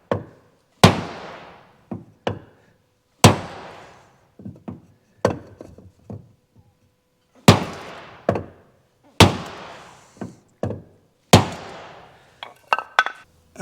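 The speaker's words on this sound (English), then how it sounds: "I want to hammer on right where this caulking is." Hammer blows on the outer skin of a car door near the caulked seam, struck while fitting the door panel: sharp, loud metallic impacts in irregular bursts, some hits followed by quick lighter taps.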